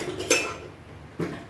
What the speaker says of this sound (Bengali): এই আলুগুলো আমি প্রেস্টিজে দিচ্ছি